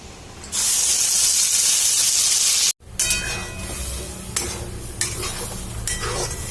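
Taro (gati kochu) paste hitting hot oil tempered with nigella seeds and dried red chillies, a loud burst of spitting sizzle that breaks off, then stirring scrapes and a quieter frying crackle.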